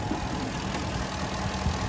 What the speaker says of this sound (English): There's the 5-liter naturally aspirated V8 engine.